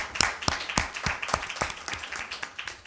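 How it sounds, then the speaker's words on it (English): A small audience claps for a certificate recipient at an ophthalmology conference session, with distinct, fairly close individual claps in an uneven, sparse rhythm over a few seconds. "Big round of applause for her."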